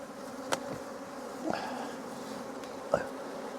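Honey bees hum steadily around an open hive at an apiary, a low continuous drone with a few individual bees buzzing sharply past up close.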